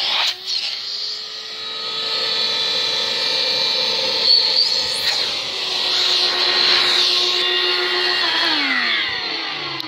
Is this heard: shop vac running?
yes